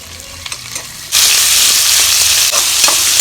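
Sliced large onions hit hot oil for a beetroot kurma parotta salna, with quiet handling at first, then a sudden loud, close, steady sizzle of frying that continues to the end.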